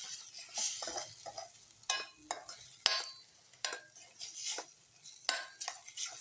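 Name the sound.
stirring paneer Afghani masala in a pan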